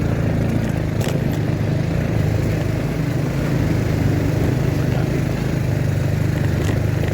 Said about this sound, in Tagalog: Hirapan yung ating motor